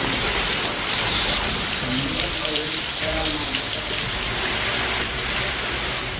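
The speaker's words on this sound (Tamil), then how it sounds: "திடீரென பலத்த மழை பெய்ததால் வெப்பம் தணிந்தது" Heavy rain pours down around Pallipattu, a dense, constant hiss of drops drumming on surfaces that holds steady and close the whole time.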